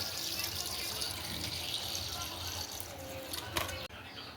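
Tap water running steadily into a kitchen sink to soak frozen fish, a continuous close rush with a soft voice speaking faintly over it before a brief clatter near the end.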